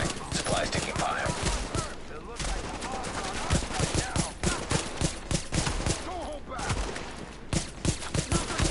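Sustained gunfire from the video game Tom Clancy's The Division: a rapid, close-range fusillade of overlapping shots that runs almost without pause, with voices speaking over it.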